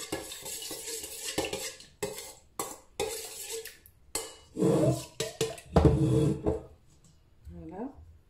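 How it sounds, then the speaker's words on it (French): Warm milk being stirred into a tangzhong bread mixture in a bowl, with repeated close scraping and clinking of utensil against the dish in uneven bursts, while a person talks at intervals. "Le lait tiède et on va mélanger un petit peu."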